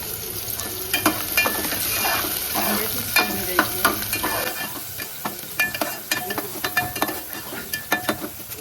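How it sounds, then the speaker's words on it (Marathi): Chopped onion frying in hot oil in a pan for a fish fry, a steady close sizzle broken by sharp scraping stirs that turn into rhythmic spatula strokes in the second half. "त्याच्यामध्ये ना मी हा कांदा टाकते."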